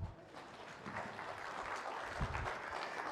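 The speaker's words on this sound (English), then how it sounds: "Let's give them a round of applause" Applause from a small class group after a demonstration, a steady patter of hand claps held at an even level throughout, with no one speaking over it.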